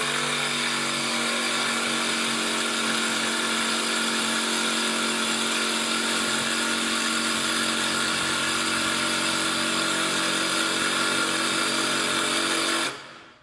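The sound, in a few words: jigsaw cutting a piece of wood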